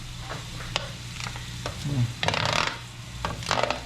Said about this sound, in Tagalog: Ilagay ang kakang gata. Ilagay na rin natin ang kamyas.